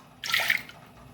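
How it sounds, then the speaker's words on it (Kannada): Water is poured into soaked toor dal while making Udupi-Mangalore style Mattu Gulla sambar. It makes a short, close splashing pour of about half a second in an otherwise quiet kitchen. "ಸ್ವಲ್ಪ ನೀರನ್ನು ಹಾಕ್ಕೊಂಡು"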